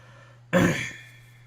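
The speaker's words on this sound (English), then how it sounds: "sorry if I'm clearing my throat a lot." A single short throat clearing, close and fairly loud, in an otherwise quiet room.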